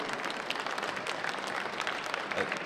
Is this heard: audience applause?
yes